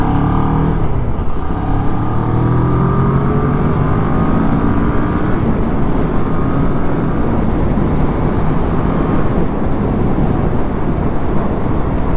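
A 2014 Kawasaki ER6-N motorcycle used as an A2 bike accelerates hard with a loud, continuous engine note climbing through gears, heavy wind rush blending in throughout.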